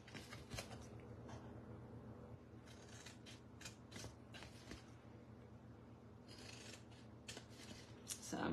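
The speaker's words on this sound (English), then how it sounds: "then you will cut up on your score lines" Scissors cut cardstock along score lines while a paper gift box is being made. The crisp snips and slicing strokes repeat irregularly and sound faint and close, with soft paper rustling underneath.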